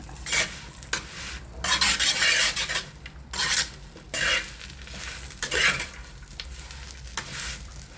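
A spoon stirs fried eggplant in a pan for a Sri Lankan brinjal moju, producing loud, repeated scraping and rasping strokes with faint sizzling between them, close up and with no talking.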